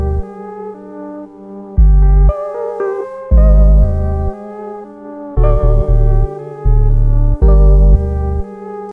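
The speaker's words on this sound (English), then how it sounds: "before playing the kick I played this 808 melody or bass line" Deep 808 bass line melody from a remake of a hip-hop song, booming low notes in a repeating groove with brighter melodic synth tones above, loud and alone with no talking.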